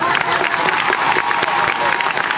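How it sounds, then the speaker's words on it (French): Audience applause at a cosplay show at Japan Expo 2009, dense steady clapping from a large crowd filling the whole stretch, loud and continuous with scattered cheers mixed in. "On les applaudit très très très fort."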